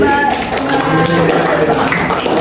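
Classroom audience applauding a student in a white shirt during a microteaching economics lesson, a steady patter of claps running throughout over room noise.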